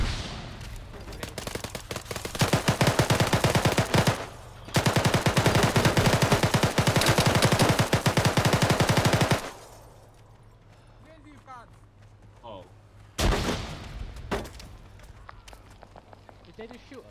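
Heavy automatic gunfire in an Arma 3 firefight, with long sustained bursts of rapid shots, a pause, then scattered quieter sounds and one more short burst, all loud and close.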